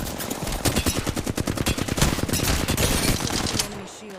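Rapid automatic gunfire in a shooter video game, a dense burst of sharp, evenly spaced shots that rattles on for several seconds before tapering off, loud and up front.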